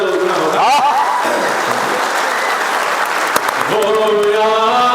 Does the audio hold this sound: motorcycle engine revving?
no